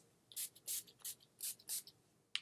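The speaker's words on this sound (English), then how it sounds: "now I'm just going to prime my face with my NYX primer spray" An NYX primer spray hisses in five short, soft bursts onto a face, evenly spaced in a quiet room, with a small click at the end.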